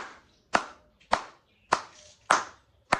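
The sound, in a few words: audience applause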